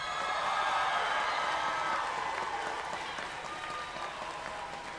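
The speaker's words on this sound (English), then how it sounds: "One more round of applause." A crowd at a South Columbus High School class of 2024 graduation claps steadily, the dense applause fading slightly as it goes on.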